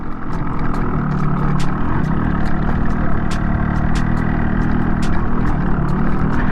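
A Yamaha RX-135 five-speed two-stroke motorcycle rides over a potholed road, its engine droning steadily and loudly throughout with a continuous clattery buzz and a few sharp ticks on top.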